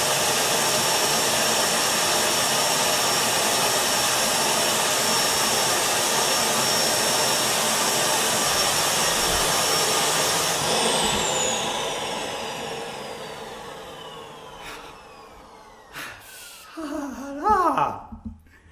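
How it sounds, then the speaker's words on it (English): A small vacuum cleaner whines loudly and steadily, then winds down and fades, leaving a few faint knocks and murmurs. "How noisy is this freaking vacuum cleaner?"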